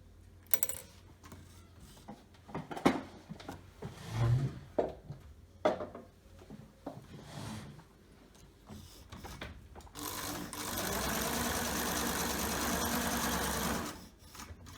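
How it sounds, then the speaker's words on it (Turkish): Near the end, a sewing machine runs steadily for about four seconds, stitching around the edges of a patchwork cushion. Before that come quiet fabric handling, clicks and small knocks. "Şimdi makinesini çekiyorum"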